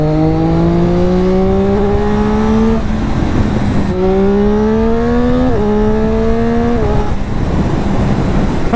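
A limited-run sport motorcycle's exhaust at full throttle: loud, close engine revs climb steadily in pitch, drop, then climb again with a brief shift stutter, the roar continuous throughout.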